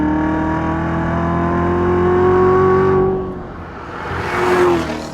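A 2015 Chevrolet Corvette Z06 roars loudly with its adjustable exhaust in track mode. The engine note climbs steadily, breaks off briefly as if on a gear change, then surges again, all up close.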